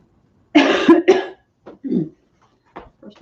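A person coughs twice in quick, loud, close bursts, followed by a few softer throat-clearing sounds and short vocal noises in an otherwise quiet room.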